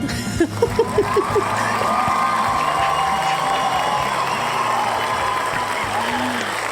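A crowd cheering and whooping from rooftops, a sustained roar of voices that starts with a few sharp claps or shouts and then holds loud and steady.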